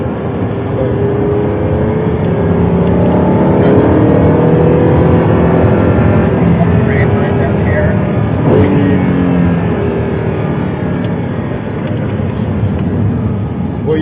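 Audi R8 on a race track, a loud steady engine drone with road rumble and wind noise that holds level throughout, a voice talking faintly underneath.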